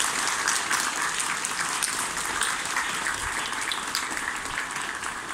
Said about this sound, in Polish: Bardzo serdecznie witamy brawami księdza arcybiskupa.